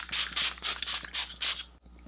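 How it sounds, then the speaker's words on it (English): Six quick hissing bursts of Urban Decay All Nighter setting spray onto a face in a steady rhythm, close and fairly loud, ending in a brief quiet. "I'm gonna spray my face with some Urban Decay All Nighter setting spray"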